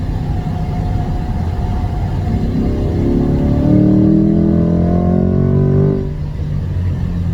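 A C8 Corvette on a race track pulls hard under acceleration, its engine note climbing steadily in pitch before easing off near the end, loud and continuous with no talk over it.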